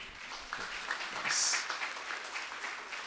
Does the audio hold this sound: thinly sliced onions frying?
no